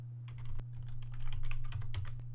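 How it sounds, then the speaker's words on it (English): Close, rapid tapping of keys on a computer keyboard as a command is typed, a quick irregular clatter over a low steady hum. "type cd Windows,"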